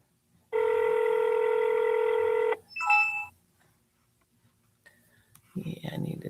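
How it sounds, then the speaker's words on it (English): Telephone call being placed: a steady two-second ring tone, then a short burst of dialing beeps, quiet gaps and faint clicks, ending with a voice starting to talk. "Let me know if you can hear the ringing."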